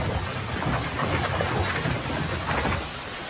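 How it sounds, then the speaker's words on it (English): Heavy rain pours down in a dense, continuous hiss, mixed with low rolling rumbles of thunder, loud and close throughout with no voices. "Rain."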